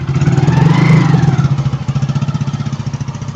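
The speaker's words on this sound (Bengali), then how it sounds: "বাইকটা যেখানে রাখে সেখানে রাখতে যাচ্ছে" A motorcycle's engine rumbles loud and near as the bike is moved to its parking spot on a rainy day, swelling briefly and then settling into a steady, rapidly pulsing idle.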